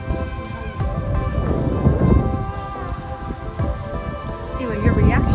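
Ocean surf rolling onto a sandy beach, a steady broad wash of breaking waves with gusts of wind over the microphone and people talking and calling out throughout.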